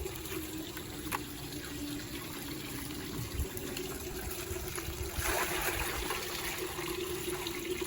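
Water pours steadily into a pond being treated to lower its pH, a continuous broad rush and trickle close by that swells slightly louder toward the end, with no talking.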